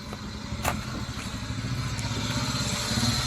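A Suzuki DA63T 4WD mini truck's engine runs with a steady, close, rattly drone that builds slightly in loudness, with a sharp clatter near the start and no talk.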